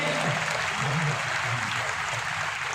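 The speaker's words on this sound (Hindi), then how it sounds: "एक बार जोरदार ताली बजाइएगा मातृशक्ति के लिए।" Loud, sustained audience applause at a comic poetry gathering (kavi sammelan) at a festival, dense clapping filling the whole moment without a break.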